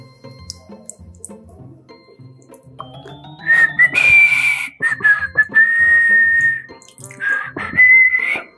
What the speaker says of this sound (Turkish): Şimdi de fidelerimin can suyunu vereyim.